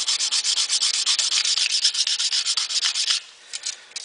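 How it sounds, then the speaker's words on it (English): Sandpaper worked by hand over stainless steel trim to smooth out a dent, a steady run of close, brisk rubbing strokes that stops abruptly near the end, leaving a few faint scrapes. "that area has been sanded pretty much smooth"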